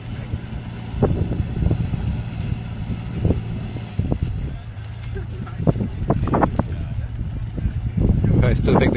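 Gusty wind buffets the microphone at a harbor where a schooner is docking at Star Island, with a steady low drone underneath and someone talking over it.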